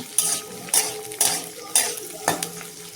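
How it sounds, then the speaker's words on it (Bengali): Onion and potato frying in a pan for a Bengali cauliflower-stem chorchori, with a steady frying hiss and a few sharp, evenly spaced spatula scrapes and clanks against the pan. "প্রথম সাথে পেঁয়াজটা ভালো করে ভেজে নেব আলুটা ঢেলে দিব"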